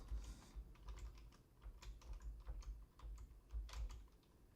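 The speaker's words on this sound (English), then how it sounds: "And then hit Enter on your keyboard." Rapid, irregular clicking of keys on a computer keyboard as someone types, close and fairly soft, with no voices.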